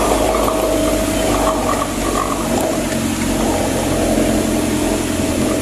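A boat engine running on water near a rocky coastline, a loud, steady droning rumble with constant wash and hiss throughout, no pauses.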